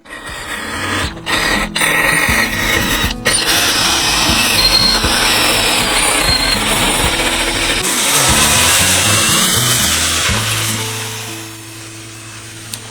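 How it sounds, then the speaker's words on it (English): A power drill whirs continuously with a rough, scratchy grinding as a wire brush scours the live edge of a wooden frame, loud and close, easing off near the end. "I'll switch to various wire brushes on my drill to further refine the live edge of the wood."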